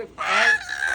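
A hen of an unusual farm breed lets out one loud, close, harsh squawk as it is picked up, rising sharply and holding for about a second.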